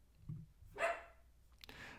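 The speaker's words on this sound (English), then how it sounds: "So we've got Murray barking at something in the background" A dog barks faintly somewhere in the background, a couple of short, distant yaps separated by quiet gaps.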